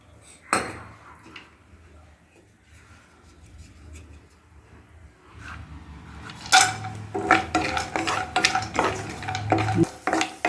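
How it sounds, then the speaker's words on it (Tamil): Cashews and almonds fry in a little ghee in a pan for bread halwa. Quiet at first, then a spoon stirs and clinks against the pan in steady, close bursts over a faint sizzle. "இதில் கொஞ்சமாக நெய் விட்டு முந்திரியும் அந்த பாதாமும் வறுத்துடலாம்"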